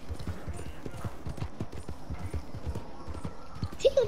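Horse hooves clip-clop in a quick galloping rhythm in the Red Dead Online video game, steady and close throughout, with a brief voice near the end.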